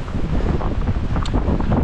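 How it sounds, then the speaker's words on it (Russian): Strong wind gusting through a winter storm, a continuous loud roar buffeting the microphone with no pauses and no voices. "Продувает, ветер сильный."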